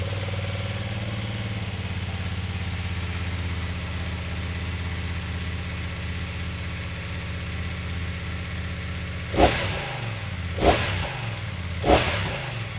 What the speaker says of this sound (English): I'm going to fire the bike up with a cold start so you can hear what the stock system sounds like